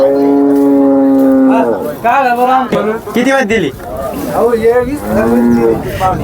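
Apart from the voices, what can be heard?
cow mooing at a cattle market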